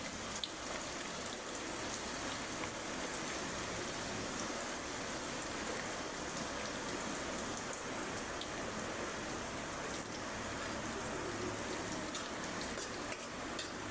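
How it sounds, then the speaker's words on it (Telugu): Two thinly chopped onions fry in a pan, sizzling and crackling with a continuous soft, rain-like hiss at moderate distance, steady throughout with no talking. "ఆనియన్స్ కొంచెం బ్రౌన్ కలర్ వచ్చే వరకు వేయించుకుందాం"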